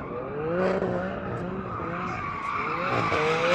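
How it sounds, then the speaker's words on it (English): An AMG C63 Black Series doing a burnout to warm its tyres before a drag race, a loud, sustained tyre squeal over a revving engine whose pitch keeps rising and falling, heard fairly close. "I'm going to just warm up the tyres a little bit"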